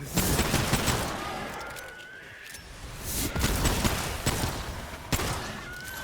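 Service pistol and SMG gunfire in the video game Remnant 2: a busy stretch of repeated shots with bursts and sharp cracks at close range, dense and loud throughout with no speech.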